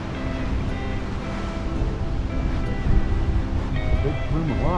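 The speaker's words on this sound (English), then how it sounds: "Wave crashes up here." Ocean surf on the rocky lava coast at Nawiliwili, Kauai, a broad rumbling wash of waves with heavy wind noise on the microphone and faint voices in the background.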